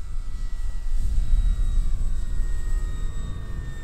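A 1200mm GeeBee RC model airplane flies at half throttle, its motor a steady droning hum with a faint high whine, holding an even level over a rumbling wind-like background.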